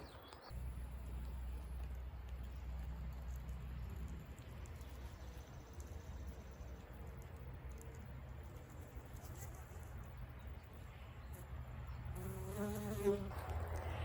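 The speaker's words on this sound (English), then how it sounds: "I'm hearing a constant hum of bees" A steady hum of buzzing bees in a vegetable garden fills the air continuously, faint and diffuse, with a brief louder buzz passing near the end.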